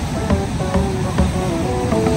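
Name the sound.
strong ocean waves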